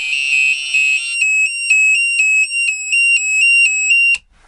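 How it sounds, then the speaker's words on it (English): A motorhome or caravan security intruder alarm goes off close and loud, a piercing electronic tone pulsing in rapid regular bursts for several seconds before cutting off abruptly. "switch the alarm on and open the door and..."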